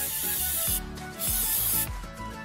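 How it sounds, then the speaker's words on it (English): Brake cleaner sprayed from an aerosol can onto a car's brake rotor, heard as two close, hissing bursts, the second following a short pause after the first. "The last step is to spray with some brake cleaner."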